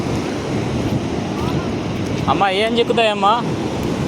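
Sea waves wash onto the shore at Suryalanka beach in Bapatla, a continuous broad surf wash with wind buffeting the microphone, while a person speaks briefly midway.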